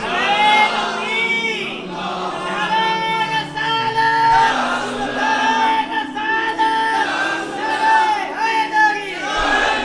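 A large crowd at a Rabi ul Awal religious gathering chants a slogan in loud, rhythmic unison, voices swelling and repeating in waves with a ringing, reverberant tone.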